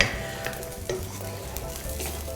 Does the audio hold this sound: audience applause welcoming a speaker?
no